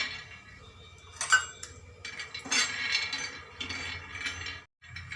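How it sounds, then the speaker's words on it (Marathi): Peanuts dry-roasting in a pan for Maharashtrian green chilli thecha, giving light rattling clinks and scraping taps that come and go in short bursts, fairly quiet and close, with no talk. "अगोदर मी शेंगदाणे भाजून घेते"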